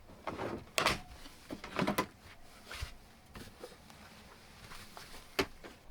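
A dresser drawer in a Heartland fifth-wheel trailer sliding out on its full-pull slides, giving several scraping, knocking clatters with sharp taps and bumps spread over a few seconds, close by.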